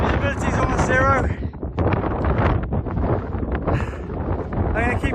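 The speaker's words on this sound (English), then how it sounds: "it's got very windy in this stretch" Strong wind gusts buffet the microphone on an exposed mountain ridge in near-zero visibility, a loud continuous roar and rumble with a voice talking over it.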